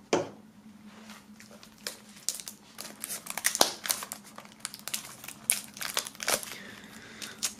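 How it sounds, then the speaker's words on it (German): A shrink-wrapped music album box set is freed from its plastic foil, with close, irregular crinkling and crackling bursts of the wrap being torn and peeled over several seconds. "wir werden das hier mal aus der Folie holen"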